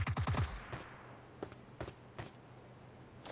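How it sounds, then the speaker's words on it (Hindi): A teammate fires a gun in PUBG Mobile. A quick automatic burst comes first, followed by a few separate shots spaced apart, fairly close and crisp over quiet game ambience. "मेरे ही टीम मेंबर ने फायरिंग की है।"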